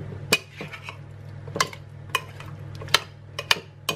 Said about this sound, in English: we'll do 1/3 cup of cream and just give that a toss through to mix through all the creaminess